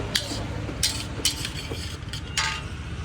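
Vegetables being stirred and sautéed over low heat in a pan for Gujarati-style mag pulav, with a spoon scraping and clinking against the metal in several distinct strokes over a soft background sizzle.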